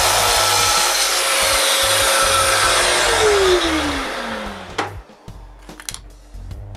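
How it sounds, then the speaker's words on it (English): A power saw cuts straight across the end of a wooden tile for shop doors, a loud steady broadband roar with a falling whine that stops near five seconds, followed by a few clatters of wood. "Next, one end of each tile is cut straight."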